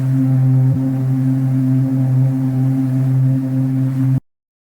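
An ambient pad sample from the Mood Drill pack holds a low, sustained drone with soft airy texture, steady and close, ending abruptly.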